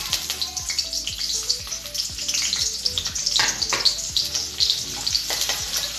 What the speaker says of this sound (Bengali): এবার পেঁয়াজটা দিয়ে দেব।